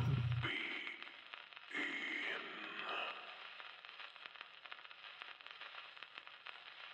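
Faint, crackly static hiss from a phone in the game The Intruder, steady and thin, with tonal bursts early on before settling into a low, even crackle.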